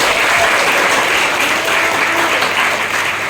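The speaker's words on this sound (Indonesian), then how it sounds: "Tepuk tangan dong bentuknya." Loud, dense applause from a school audience of students, continuous and close for the whole few seconds.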